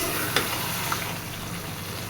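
Chicken pieces stir-fried in a pan, a loud, continuous sizzle with a couple of brief scraping stirs, close up.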